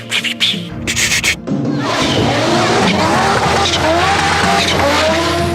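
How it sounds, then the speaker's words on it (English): An Audi five-cylinder race car roars past loudly, its engine note sweeping and rising with sharp tonal streaks and tyre noise, after a few short choppy bursts at the start that fit wastegate flutter. "The wastegates would open and it would flutter."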